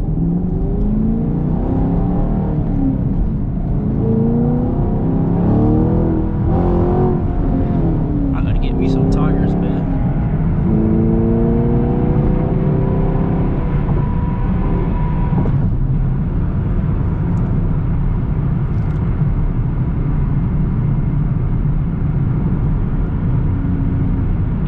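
A Chevrolet Camaro SS driven late at night, heard from inside as its engine revs rise and fall through downshifts and hard acceleration, loud and close, while the driver talks over it.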